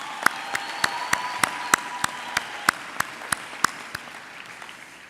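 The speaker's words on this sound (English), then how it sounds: "I think we should give them a hand of applause." Applause for graduates at a University of the Free State graduation ceremony: evenly spaced, loud rhythmic claps in unison over a softer bed of scattered crowd clapping, echoing in a large hall.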